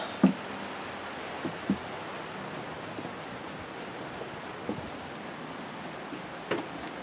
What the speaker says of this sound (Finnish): Meillä sataa.